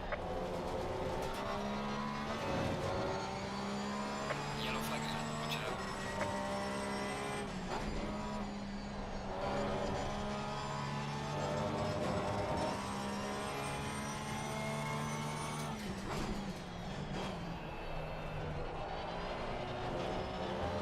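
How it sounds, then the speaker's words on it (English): Car engines in a racing video game whine steadily with repeated rising and falling pitch sweeps during a race, while a voice briefly speaks. "There's a slow car up ahead."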